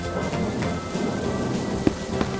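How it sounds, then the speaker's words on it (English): Steady cartoon rainfall hisses throughout under rumbling thunder, with a sharp crack near the end during an animated rainy-day scene of a pig and her rainbow umbrella. "It's raining, and Peppa spots her rainbow umbrella"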